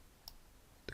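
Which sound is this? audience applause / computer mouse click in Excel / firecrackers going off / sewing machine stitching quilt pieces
computer mouse click in Excel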